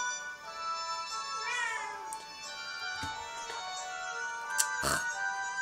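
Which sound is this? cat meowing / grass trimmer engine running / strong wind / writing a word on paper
cat meowing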